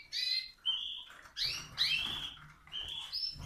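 Spanish Timbrado canaries sing in an aviary with short bright chirps and trilled phrases, near and fairly clear, separated by brief pauses.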